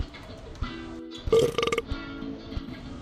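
A loud, rumbling burp erupts through PUBG Mobile voice chat, one drawn-out belch with a croaky tail, set against low background chatter and game noise.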